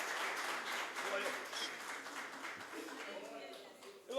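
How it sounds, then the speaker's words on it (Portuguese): Church congregation applauding during a Portuguese-language worship service, a broad, steady wash of clapping filling the room throughout while a voice speaks over it. "pode aplaudir o Senhor"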